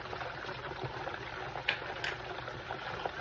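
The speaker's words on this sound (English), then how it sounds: "I have 1/4 cup of apple cider vinegar I'm gonna pour in." A quarter cup of apple cider vinegar pours into a homemade barbecue sauce mixture, a faint, steady liquid trickle with soft splashy hiss and a couple of small clinks.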